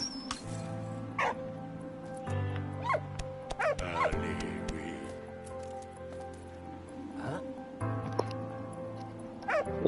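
A dog in the Valiant Hearts video game barks, yips and whimpers in short repeated outbursts over a steady low musical drone, close and fairly loud, with faint voices at times.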